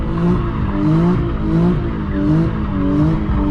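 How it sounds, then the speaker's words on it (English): A car engine is revved repeatedly in rising and falling bursts before a donut maneuver, loud and close, roughly five pulses of throttle with no talking. "So we're gonna bring the RPMs up."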